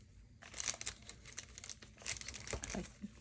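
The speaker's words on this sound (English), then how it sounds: "And then I'm going to just cut another piece here." A piece of sticky paper is cut for a winter-themed traveler's notebook journal, making faint, close crinkling and snipping rustles in two short bursts.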